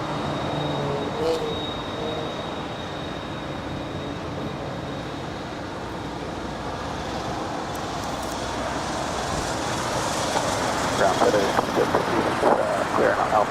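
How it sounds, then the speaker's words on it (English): A 29-year-old MD-11 airliner passes at LAX, its broad jet roar slowly building and swelling louder toward the end. People talk over the engine noise. "This is a 29-year-old MD-11"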